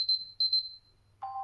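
An alarm tone on a Motorola Edge 30 Neo phone sounds as short high pulsing beeps, followed after a pause by a lower sustained tone.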